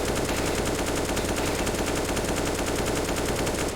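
Rapid automatic gunfire from a Roblox Counter-Strike style shooter, a dense continuous rattle of shots that stays loud and steady throughout with no talking.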